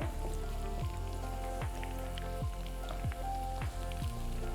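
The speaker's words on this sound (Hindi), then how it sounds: "ये देखें, ये फ्राई होना शुरू हो गई है।" Food fries in hot oil in a pan, a steady close-up sizzle with crackling pops, joined by a regular series of low thumps about every half second.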